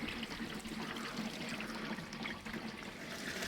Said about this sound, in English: I'm just purging the bottom drain